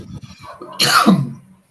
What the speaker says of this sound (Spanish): ojalá deje de toser.